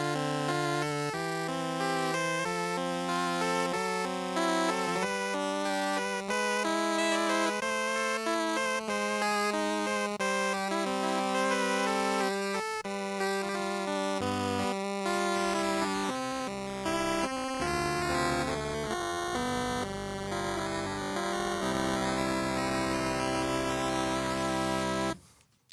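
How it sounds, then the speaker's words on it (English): A Game Boy-style sampled synth run through a bit crusher plays a steady, buzzy chiptune-like pattern. It is deliberately warbling and unstable, like a handheld with a dying battery, and the pitch bends and sweeps near the end before it cuts off abruptly. "I've added some randomness to it using a bit crusher and some other effects to make it sound really kind of unstable"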